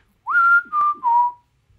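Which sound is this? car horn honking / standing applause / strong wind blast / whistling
whistling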